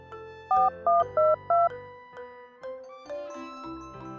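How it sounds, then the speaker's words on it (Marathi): Four quick electronic keypad beeps in a row, followed by a softer run of chiming tones, as a mobile phone is dialed. "त्याने लगेचच त्याचा मोबाईल काढून कोणाला तरी फोन लावला"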